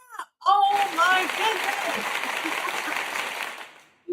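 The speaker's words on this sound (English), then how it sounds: "Let's clap." Hands clap in a steady burst for about three seconds, close and fairly loud, with a voice speaking over the start of it.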